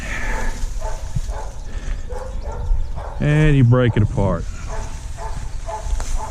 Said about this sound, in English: that dog is extremely annoying. I don't think he ever stops barking.